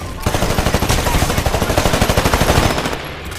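Rapid automatic gunfire in the shooter game Titanfall, a loud continuous burst of evenly spaced shots lasting nearly three seconds before cutting off.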